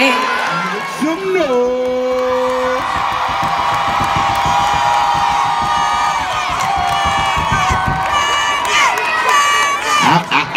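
A large audience at a comedy tour show roars with sustained cheering, whooping and shouting, a loud, continuous wall of crowd noise with a voice rising briefly near the start.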